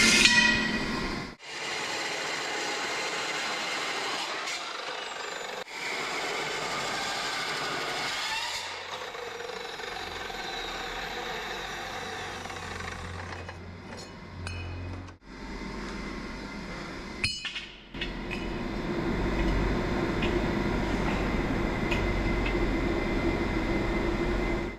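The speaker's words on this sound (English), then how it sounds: "I might as well start welding this." Metal welding in a farm or repair shop, a steady crackling hiss that runs continuously for long stretches, broken by a few short pauses and clanks, with a low engine-like hum underneath; no talking.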